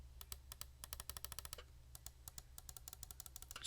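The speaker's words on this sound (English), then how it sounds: "Side buttons." Side buttons of a G-Wolves Hati S Plus 4K gaming mouse clicked rapidly in two bursts with a short pause between them, sharp and close-miked with no voices.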